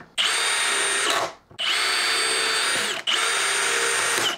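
DeWalt cordless drill on a clutch test in third gear, spinning up at high speed in three separate whining bursts, each cut off sharply by the electronic clutch, loud and close with nothing else heard.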